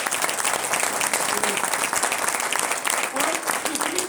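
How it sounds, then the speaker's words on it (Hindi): A crowd at a business seminar in Zirakpur claps in a dense, steady burst, fairly loud and close, with some voices mixed into the applause. "अगर इतने लोग तालियां बजा रहे हैं जिनको रिजल्ट आए"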